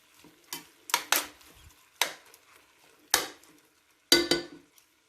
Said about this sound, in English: I'm frying my spaghetti noodle